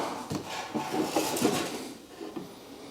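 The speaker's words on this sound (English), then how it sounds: "Pop the gear door there" A gear door on a giant CARF MiG-17 composite RC jet model is popped open by hand, giving close, scraping and rubbing handling noises with a few light knocks over about three seconds, with no talk.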